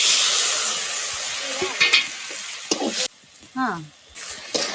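Tomatoes sauté in a pan after ginger-garlic paste has gone in. A loud, close sizzle of frying and stirring fills the sound, dropping briefly partway through, with a few short vocal sounds in between.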